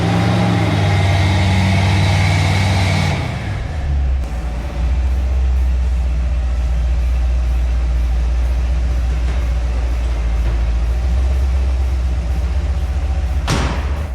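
A 1972 Chevrolet Blazer 4x4 with a four-speed holds a loud, steady, deep idle close by. The tone shifts and settles lower after a few seconds, then rumbles evenly with no talk.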